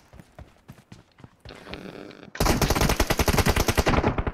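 Battlegrounds Mobile India gunfire: a few scattered single shots, then a loud, close burst of rapid automatic fire that runs steadily to the end.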